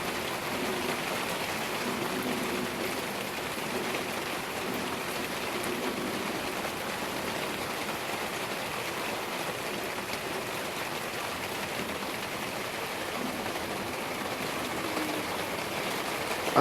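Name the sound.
rain during thunderstorm in Montpellier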